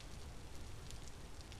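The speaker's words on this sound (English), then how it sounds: "I'm starting to lose visibility. It's raining." Steady rain falls in a survival crafting video game, a soft continuous hiss with faint scattered drops, fairly quiet and even throughout with no talking.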